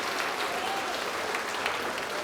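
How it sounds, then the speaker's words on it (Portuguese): A church congregation applauds loudly in the name of Jesus, a dense, steady burst of clapping over two seconds with no voices on top. "Vamos aplaudir bastante ao nome de Jesus."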